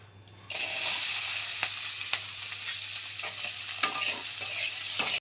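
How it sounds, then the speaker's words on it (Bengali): A small batch of okra (bhindi) fries in a pan, a soft steady sizzle broken by several sharp stirring clicks and scrapes, close by and without speech. "অল্প একটু ভেন্ডি ছিল, ওটা ভাজা করে নিচ্ছি।"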